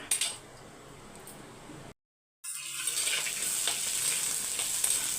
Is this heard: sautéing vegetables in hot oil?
yes